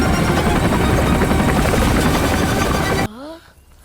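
A loud helicopter rotor sound effect chops steadily and up close, then cuts off abruptly and gives way to a few brief rising electronic tones.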